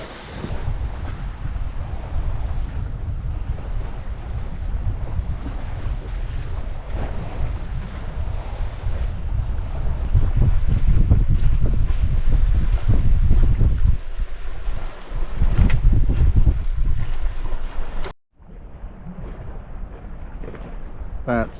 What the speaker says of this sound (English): the wind's between 16 and 18 knots now, so we're cracking along